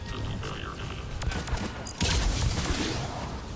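Gunfire in the Mass Effect 3 Legendary Edition video game, a busy burst of shots and battle noise that swells after a brief lull, loud and continuous with no talk over it.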